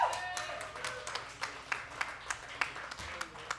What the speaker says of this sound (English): Want to give a big round of applause again to Ann Schorr and Moon Glimmers too.